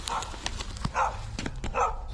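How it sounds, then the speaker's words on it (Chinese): A dog barks in short repeated bursts, roughly three loud barks spaced about a second apart, at a snowy winter campsite outdoors, with little else around it. "狗叫"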